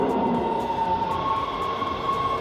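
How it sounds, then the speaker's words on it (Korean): An LA Metro D Line subway train arrives at an underground station, a steady loud rumble with a sustained metallic whine and faint periodic clatter of wheels over the rails. "지하철이 들어오고 있습니다."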